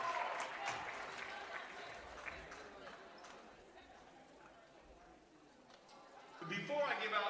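Applause for the coaches at an all-star volleyball awards gathering fills the room as steady, crackling clapping under a talking voice, thinning slightly midway before swelling again at the end.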